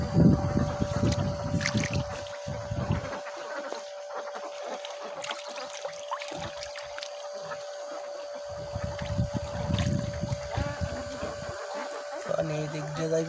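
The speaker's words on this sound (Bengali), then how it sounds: "মেয়ের মোটর পানি বিল থেকে পানি উড়াইতেছে, জমিনে পানি দিতেছে।" A small toy water motor pumps water out of a wetland onto a farm field, giving a constant thin motor whine with splashing water, while people talk over it on and off.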